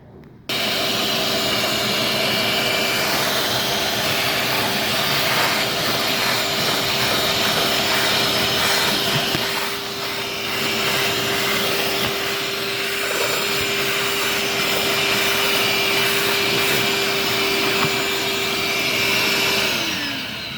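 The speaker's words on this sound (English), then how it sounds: "and now we're going to vacuum that up." Vacuum cleaner sucking up debris from a car's floor carpet, a loud, steady whining roar that runs unbroken for about twenty seconds before spinning down at the end.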